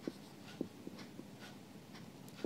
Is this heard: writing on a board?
yes